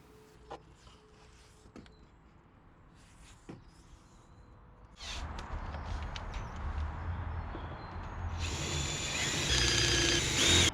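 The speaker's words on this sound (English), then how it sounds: "All the fixings on the inside of the wing are rivets and they need drilling out." Power drill boring out rivets on the inner wing of a Volvo XC90 during a wing replacement, a steady loud whirring that starts partway through and grows harsher toward the end, after a quieter stretch of scattered small clicks.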